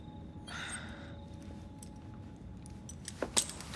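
Keys jangling as they are handed over in Assassin's Creed Syndicate, a short metallic rattle with a few sharp clinks near the end over steady low ambient background noise.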